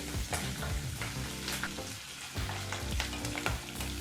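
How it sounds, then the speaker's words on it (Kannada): A tempering with curry leaves fries gently on a low flame for cucumber curd rice, giving a soft, steady sizzle with occasional light stirring and crackles close by. "ಈಗ ಒಂದು ನಿಮಿಷಗಳ ಕಾಲ ಈ ಎಲ್ಲ ಪದಾರ್ಥನೂ ಫ್ರೈ ಮಾಡ್ಕೋಬೇಕಾಗುತ್ತೆ ಅದು ಲೋ ಫ್ಲೇಮ್ನಲ್ಲೇ"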